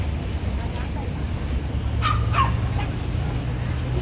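A pug barks in a couple of short, yipping bursts outdoors near a rice field, heard amid a steady background rumble with people talking nearby.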